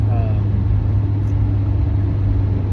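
Car with a busted gear shifter driving along, a steady low engine rumble and road drone heard from inside the cabin, continuous and fairly loud with no speech over it.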